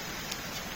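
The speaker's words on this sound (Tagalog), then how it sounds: "Lakas ng ulan guys, oh." Steady rain pours down as a dense, even hiss with no breaks, heavy and close, with no other sounds standing out.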